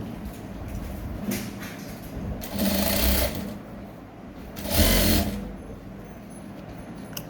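A sewing machine stitching kids' elastic shorts, running in two short, loud whirring bursts separated by quieter handling noises and pauses.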